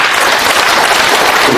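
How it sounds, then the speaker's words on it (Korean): Audience applause fills the hall, steady and dense throughout, as a former mayor of Jeongeup arrives and is welcomed during a lecture. "박수로 환영해 주십시오"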